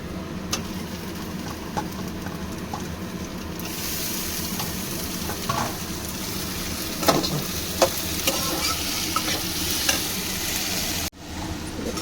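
Tomatoes hit well-browned onions in a frying pan, and a steady loud sizzle runs throughout, with scrapes and clatters of stirring until it cuts off abruptly near the end.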